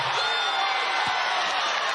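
Crowd in a women's college basketball arena during an Arizona State vs. BYU game, a continuous dense roar of disapproving reaction from the stands, loud and enveloping for the brief moment.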